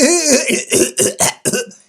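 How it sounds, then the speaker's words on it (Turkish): A run of sharp, repeated coughs, about six bursts in quick succession, close and loud with no talking. "öksürüyor musun sen?"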